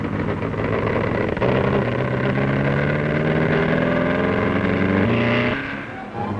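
Engines of 1930s dirt track racing cars roar together, a loud sustained multi-car drone with rising pitch as they accelerate, steady and close, easing slightly near the end.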